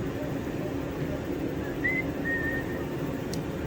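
A short two-note whistle, faint and thin, over a steady background hum with some indistinct voice.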